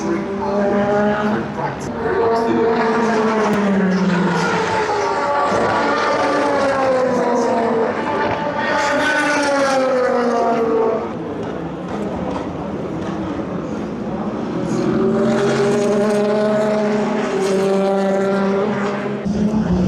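Race cars scream past during free practice for the 24 Hours of Le Mans, engines rising and falling in long, loud sweeps that nearly fill the whole stretch while a voice talks.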